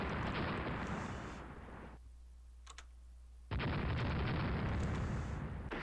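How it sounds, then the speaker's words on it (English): Naval gunfire in Rule the Waves rumbles as a heavy, sustained roar, cuts out briefly to near quiet with a faint tick, then bursts back just as loud. "We are scoring hits on that enemy battleship."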